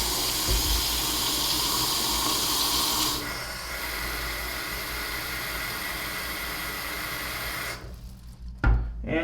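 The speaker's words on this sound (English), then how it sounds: "So filling the water basin isn't particularly hard." A water vacuum cleaner's water basin is filled under a running tap in a regular sink. The stream makes a steady hiss that drops in pitch as the basin fills, then cuts off, followed by a couple of bumps and clunks.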